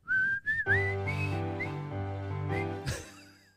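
A person whistles a short, wavering melody alone, clear and close, with a gliding rise at the start and a few sliding notes before trailing off.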